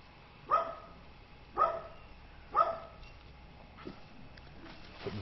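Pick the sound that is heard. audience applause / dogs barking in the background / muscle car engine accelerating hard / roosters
dogs barking in the background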